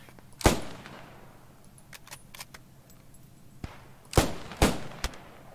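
Gewehr 41 rifle fire in the World War II shooter game Post Scriptum: a sharp shot early on, then a tight burst of three cracks near the end, with faint clatter between.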